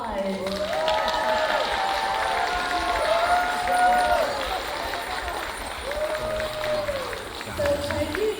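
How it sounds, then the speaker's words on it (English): An audience at a Fresno State Asian American Month celebration applauds and cheers for young Tai Tuki leadership program participants, with steady dense clapping and crowd noise lasting throughout, mixed with some tonal voices. "So please give our participants a round of applause."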